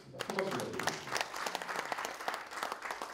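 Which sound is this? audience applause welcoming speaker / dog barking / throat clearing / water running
audience applause welcoming speaker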